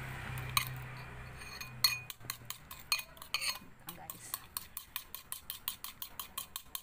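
A small spoon whisking dalgona coffee of instant coffee, sugar and a little water in a cup, quick rhythmic clinking taps against the sides that speed into a steady fast beat, close and clear without talk.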